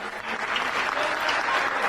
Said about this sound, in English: The whole crowd behind them is clapping.